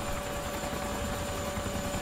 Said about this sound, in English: Helicopter's damaged, but I think we're okay.